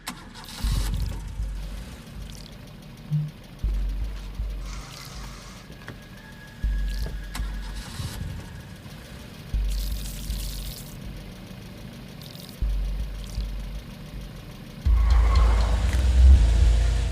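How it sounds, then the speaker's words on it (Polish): A car engine in the video game Overland cranks and catches several times in repeated bursts, then settles into a louder steady idle or drive rumble near the end, with no talk over it. "Wsiadamy do auta i ruszamy w drogę."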